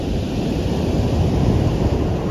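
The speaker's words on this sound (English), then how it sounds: "Where the Klamath River meets the Pacific Ocean right there in the mouth." Ocean surf at the mouth of the Klamath River where it meets the Pacific, a loud continuous wash of breaking waves mixed with heavy wind buffeting on the microphone, no voices.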